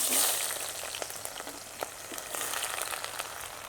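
Onions fry in hot oil with cloves and cinnamon for gongura chicken: a steady close sizzle with scattered sharp crackles and pops.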